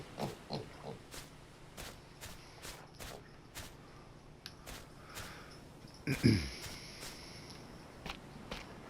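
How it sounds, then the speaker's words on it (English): A pig in the survival game Stranded Deep grunts amid soft footsteps and game ambience, with a brief louder burst of noise near the end. "Hey, there is the pig that has my other spear."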